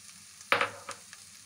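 Khoya hits a hot pan for dry fruits halwa with a sharp sizzling burst, followed by a couple of smaller crackles fading to quiet frying.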